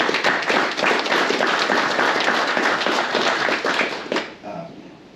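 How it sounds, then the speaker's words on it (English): Audience applause at a hunting association's annual general meeting for the hunt instructors, a dense steady clatter of many hands that fades out near the end. "I think they deserve a round of applause too for that."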